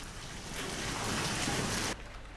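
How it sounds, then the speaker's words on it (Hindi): Heavy rain pours down during a storm in Raxaul, Bihar, a dense, steady roaring hiss of close rainfall that cuts off abruptly near the end. "रक्सौल से भी तस्वीरें आई हैं, जहां आंधी के साथ तेज बारिश हुई है"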